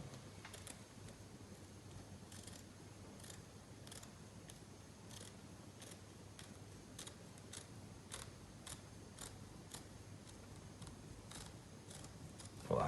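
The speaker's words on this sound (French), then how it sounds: "la paire de ciseaux pour découper mon rectangle" Scissors snip through a paper rectangle in a quiet room, a series of soft, crisp cuts at an irregular, unhurried pace, each a faint isolated click against low background hiss.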